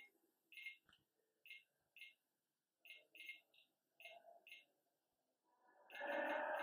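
An EMF detector's temperature alarm sounds in a historic county prison as a run of short, faint electronic beeps spaced irregularly, followed by a louder rising tone near the end, with soft voices nearby.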